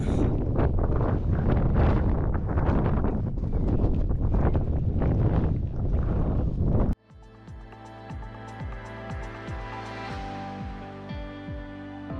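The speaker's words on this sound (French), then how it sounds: "le vent s'est réveillé" Strong wind roars and buffets the microphone in gusts for several seconds on a cold polar expedition, then cuts abruptly to a steady, tonal, music-like drone.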